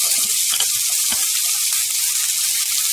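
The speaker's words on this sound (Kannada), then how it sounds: "ಈರುಳ್ಳಿ 1-2 ನಿಮಿಷದಷ್ಟು ಮೀಡಿಯಂ ಫ್ಲೇಮ್ನಲ್ಲಿ ಫ್ರೈ ಮಾಡಿದ್ದೀನಿ" Chopped onions fry over a medium flame in hot ghee and oil for a chicken keema paratha, giving a close, loud, continuous sizzle with faint scraping stirs.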